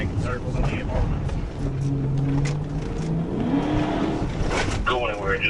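A fleeing car circles through an apartment complex during a police pursuit, its engine whirring and revving steadily under ongoing radio-style talk and road noise.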